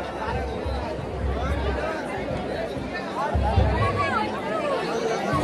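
Crowd chatter outside the Ekvira temple near Lonavala, a dense murmur of many voices with footsteps and shuffling close by and a brief louder bump near the end.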